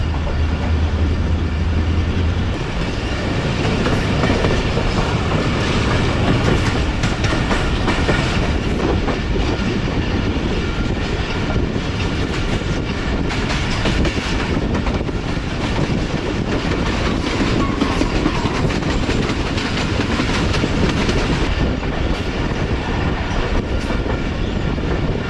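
Allama Iqbal Express rolling along the rails, a loud steady rumble with rhythmic clickety-clack of wheels over joints throughout, continuous with no speech.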